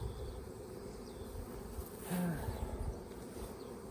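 A honey bee swarm settling near a hive fills the air with a steady, close insect hum that holds level throughout, with a brief louder swell in the middle.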